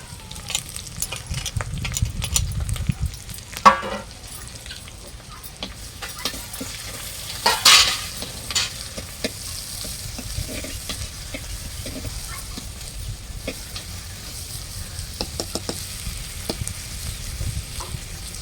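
Half a kilo of small shallots fry and are stirred in a pan for village-style pallipalayam chicken, a soft continuous sizzle with occasional louder scraping and clattering stirs, fairly close but low in level, with no talk.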